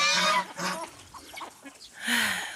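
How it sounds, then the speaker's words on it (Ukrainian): Farm hens, currently molting, give a few short clucks and croaks in bursts with quiet gaps between, fairly close and alone. "курочки наші лисі дуже зараз линяють, яєць немає"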